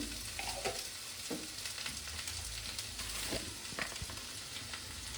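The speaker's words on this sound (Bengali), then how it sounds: "আমি এর সঙ্গে চিংড়িটা ভেজে নেবো" Prawns coated in salt and turmeric fry in hot oil for a Bengali water spinach chorchori, a steady close sizzle with occasional stirring scrapes throughout, no voices.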